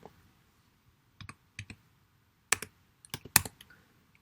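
Quiet, close typing on a computer keyboard: sparse clicks in small bursts, a few keys at a time with pauses between, over near silence.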